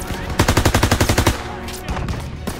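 A machine gun rattles in Call of Duty: WWII, a rapid evenly spaced burst of about a dozen loud close shots, then ringing echoes and distant battle noise.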